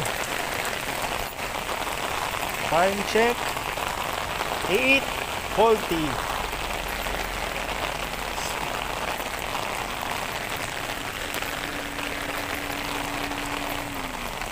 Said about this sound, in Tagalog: napakalakas ng ulan dito sa Cubao